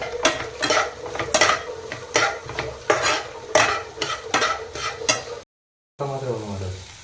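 Onions fry in oil in a pan on a stove, loud and close, with fast rhythmic stirring strokes scraping over a bright continuous sizzle before a brief cut to quieter, hissing frying.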